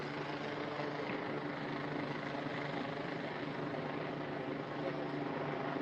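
Helicopter flying overhead in the sky above a Washington, DC city street, a steady droning rotor roar that holds loud and constant throughout with no break.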